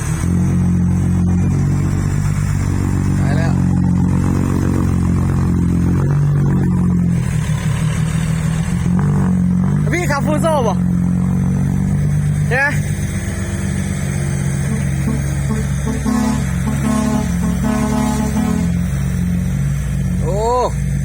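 Mitsubishi Fuso truck engine running at a factory, a loud steady mid-range drone with shifting harmonics and a few brief revving sweeps, under people talking.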